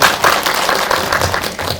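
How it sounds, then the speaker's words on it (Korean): An indie cinema audience claps at a post-screening talk, a short burst of dense, fairly loud applause that holds steady for a couple of seconds. "예, 박수."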